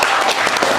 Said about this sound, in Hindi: एक बार उनका ताली से स्वागत करूँगा।